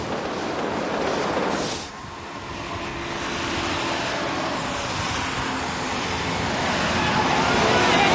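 A speeding train with overhead high-voltage cables rolls past in a steady, broad roar of wheels and rushing air, dipping briefly early on before building louder toward the end, with no talk.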